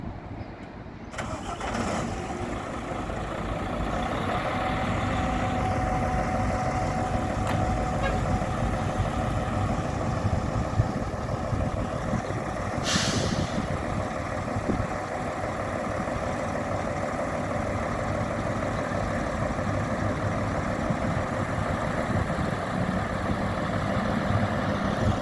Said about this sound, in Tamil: வண்டி முன்னாடி எடுத்து போகிறாங்க.